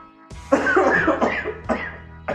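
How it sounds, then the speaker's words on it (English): A burst of harsh, throaty coughing up close, several rough hacks running together with a few sharper spasms at the end. "I had a little cough attack."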